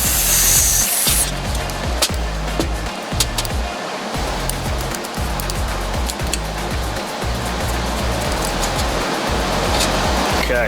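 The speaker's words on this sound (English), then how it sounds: "let's just spray that out." A loud, continuous aerosol carb cleaner spray hisses close by into a Honda 350X carburetor, accompanied by a low rhythmic rumble underneath.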